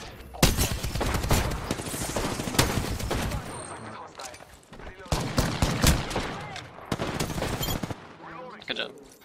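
Rapid bursts of video game gunfire crackle in loud, repeated volleys across most of the stretch, with a brief lull in the middle before another heavy barrage; players talk over the shooting.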